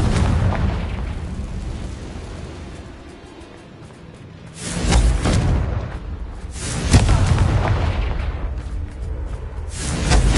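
Confringo blast spells go off in a Harry Potter video game, heavy booming explosions that strike several times in a row, each a loud burst with a rumbling tail, over a constant background roar.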